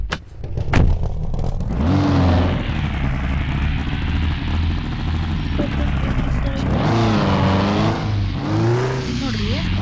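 Car engine in the driving game Car For Sale, a steady low rumble running throughout with rising revs near the end, heard under continuous talking.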